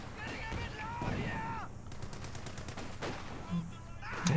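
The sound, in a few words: sniper and gunfire in Company of Heroes 2 video game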